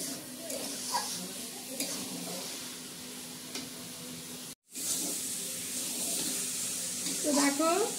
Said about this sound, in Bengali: তো ঘিটা কিছুক্ষণ দিয়ে একটু নাড়াচাড়া করে নিই।